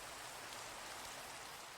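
Steady, soft hiss of rain falling in Minecraft, a faint even patter with no breaks or voices.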